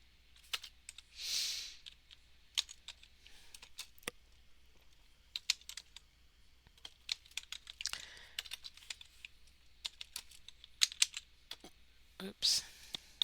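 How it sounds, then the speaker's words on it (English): Typing on a computer keyboard indoors, sparse irregular clicks and short bursts of keystrokes at close range, fairly quiet with soft background hiss and no talking. "just type in what you're looking for"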